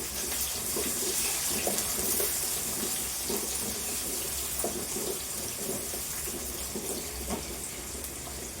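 Onions added to hot oil with popped mustard seeds sizzle and crackle in a pan, a steady hiss with scattered pops, fairly quiet and continuous.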